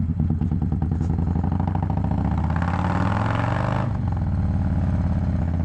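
Engine of a 2017 Harley-Davidson Dyna Low Rider S motorcycle running close by, a steady deep rumbling idle that swells into a brief rev before settling back, with no talking.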